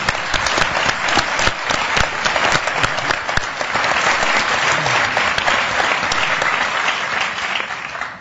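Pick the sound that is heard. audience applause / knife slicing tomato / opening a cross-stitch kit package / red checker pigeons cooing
audience applause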